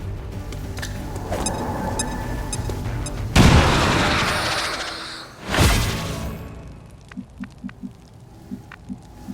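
Frag grenade explosion in XCOM 2, two heavy booms a couple of seconds apart, each a loud broadband blast with rumbling decay, followed by scattered lighter impacts and faint game sounds.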